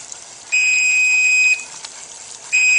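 A cooking timer gives a steady high electronic beep that lasts about a second, stops, then starts again, loud and close over a faint background hiss.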